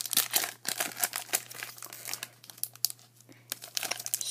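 Foil wrapping of a Magic: The Gathering Fate Reforged booster pack crinkles and rips in quick irregular bursts, close and crisp, with a faint steady hum underneath.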